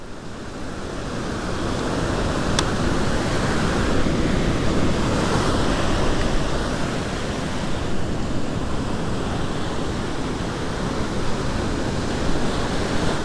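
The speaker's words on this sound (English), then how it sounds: "standing on a beach, looking out into the waves and waiting for a bite" Ocean waves break and wash over a beach in the evening, a continuous loud roar of surf mixed with wind, with no voices.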